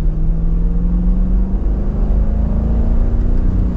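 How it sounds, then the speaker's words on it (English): A 2023 Dodge Durango R/T with its Hemi V8 pulls hard in third gear, the deep engine drone rising steadily in pitch as it accelerates, loud and close from inside the cabin, with no talking. "we can give it some gas here using the paddles to see what it sounds like from third"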